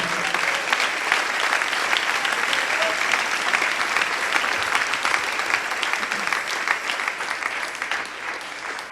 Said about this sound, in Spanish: Dele un aplauso al Señor en esta mañana.